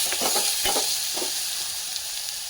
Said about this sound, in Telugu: కొంచెం ఫ్రై అవనిద్దాం.